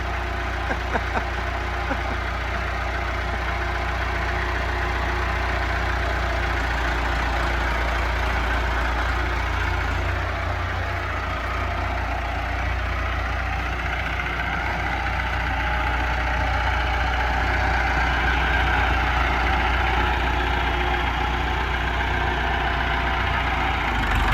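Massey Ferguson 575 tractor in for front axle repairs, its diesel engine running steadily and loudly at close range with a deep continuous rumble throughout, no one talking.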